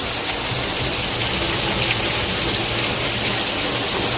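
Heavy rain pouring steadily, a dense, loud, continuous hiss of downpour with no breaks, heard from close by and without any talking over it.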